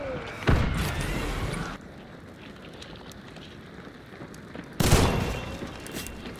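Two loud, sharp gunshots from the video game Hunt: Showdown, spaced several seconds apart, each followed by a lingering tail over a quiet background.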